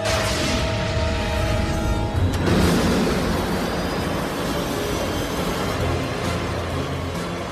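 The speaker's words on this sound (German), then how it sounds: "Die Flugzeuge rasen aufeinander zu." Jet aircraft engines roar loudly and continuously in a radio drama scene as two jets race toward each other, a dense sustained rumble with a brief swell near the start and no talk.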